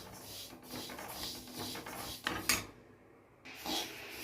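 Sesame seeds dry roasting in a pan on a low flame, stirred with a utensil in soft scraping and rasping strokes, close and quiet, with a brief clink and a short pause.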